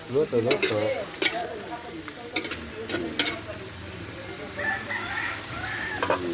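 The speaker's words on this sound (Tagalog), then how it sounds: "Ako naghahalo pala." A pot of native chicken tinola being stirred over sizzling heat, with scraping and clattering of the spoon against the pot in uneven bursts, a rooster crowing in the background and light sizzle throughout.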